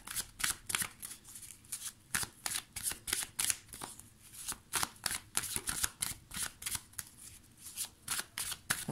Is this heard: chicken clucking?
no